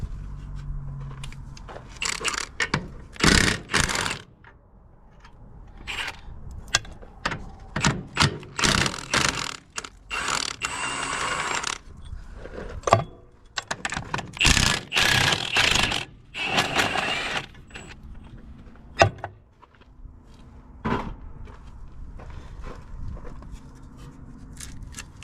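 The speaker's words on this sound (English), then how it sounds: "Spin that nut off there too." A nut spun off on a Minneapolis-Moline M670 Super tractor being salvaged gives irregular metallic rattling, rubbing and ratcheting bursts up close, with pauses between the spins.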